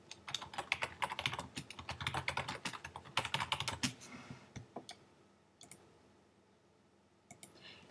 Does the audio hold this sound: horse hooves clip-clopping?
no